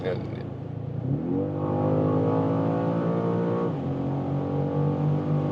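A BMW M5 G90 accelerates hard at high speed, its engine note climbing in pitch, dropping briefly at a shift, then rising again, loud inside the cabin while people talk.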